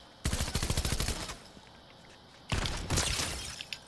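Fortnite gunfire in two bursts of rapid automatic shots, a rattling volley followed after a pause by a second burst, fairly quiet overall and with no talk over it.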